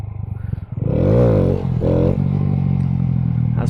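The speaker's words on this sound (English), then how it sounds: "We're practicing some wheelies now." Motorcycle engine revving during wheelie practice, two loud rising-and-falling rev bursts followed by a steady idle rumble, close by.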